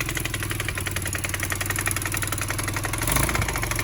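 The engine of a 2008 Kawasaki quad ATV runs at a steady, close idle with a dense, even rumble throughout and a brief slight rise near the end.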